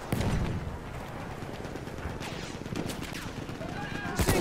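Gunfire from Battlefield 1 clatters in scattered bursts of shots through a busy combat soundscape, fairly quiet, with voices talking over the shooting.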